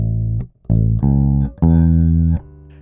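Bass guitar playing a simple one-bar riff on the first three notes of a triad, four deep sustained notes in a steady pattern with short gaps between them, close and clean with no voices.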